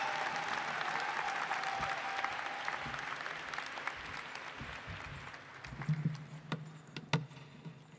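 A crowd at a university hooding and diploma ceremony applauds graduating master's students, a sustained wash of clapping that gradually thins into scattered individual claps and a few sharp louder ones near the end.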